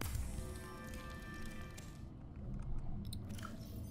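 Eating cooked peeper and cooked boomerang in the Subnautica video game, a steady close chewing and crunching sound effect running throughout, thinning out near the end.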